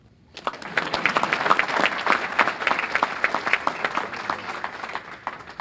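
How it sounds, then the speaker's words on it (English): Guests at a high school boys basketball banquet break into applause after a moment of quiet, the clapping swelling quickly and staying lively and close before thinning slightly toward the end. "You can applause."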